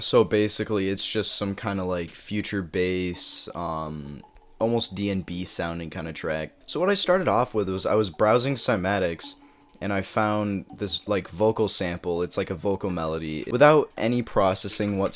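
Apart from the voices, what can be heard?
No everyday noise stands out behind the speech.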